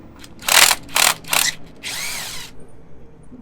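A power tool unbolts 8mm side cover bolts on a Janus Halcyon 250 motorcycle, giving three short, loud buzzing bursts and then a longer whirring spin-down, close by in a quiet workshop.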